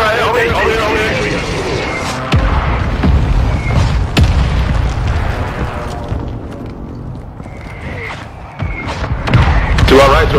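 Heavy booms and thuds of an artillery fire mission landing in a military video game, several deep blasts spread across the stretch under a constant din of battle noise and voices.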